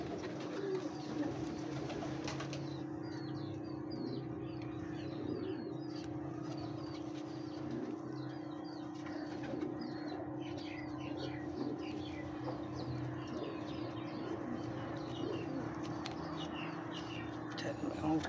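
Old paired pigeons kept in coops coo softly and steadily amid a low ambient hum, with occasional other bird calls in the background.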